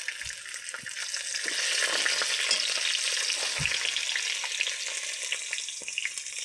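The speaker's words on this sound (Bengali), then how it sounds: "জিরাটা ফুটে যাক ভালো করে, দিয়ে দেবো আদা রসুন একসাথে" Cumin seeds spluttering and crackling in hot oil for a mixed vegetable curry, a steady close sizzle with scattered sharp pops and a few stirring knocks, no voices.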